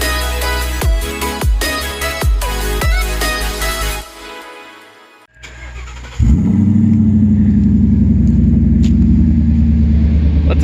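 A rebuilt, previously crashed 2016 Ford Mustang GT: several sharp metallic knocks, a brief pause, then the V8 fires up loudly and settles into a steady, close, heavy rumble.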